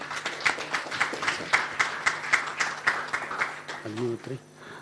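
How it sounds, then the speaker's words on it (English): Event audience at a yoga summit clapping in a big, steady round of applause, with a voice speaking over it and the clapping fading near the end. "So giving the big claps."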